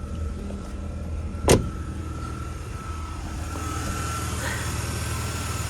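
A used car for sale sits idling while its power windows run, a low steady motor whine after a sharp click, with engine rumble underneath and no talk.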